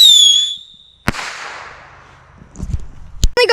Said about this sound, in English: We're trying to light 2 of the bottle bombs at once.